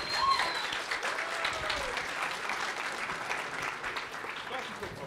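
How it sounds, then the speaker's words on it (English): Moderate applause rises from the audience at a TFcon 2014 convention panel, a continuous patter of clapping in a room with faint voices and a brief whistle-like tone early on. "Come on, let's get a clap for Yokitron, yeah"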